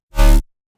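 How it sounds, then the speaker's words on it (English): Synthesized bass step from a dubstep drop, a single short, loud, buzzy electronic hit lasting about a third of a second, then silence. "Let's start with the bass steps."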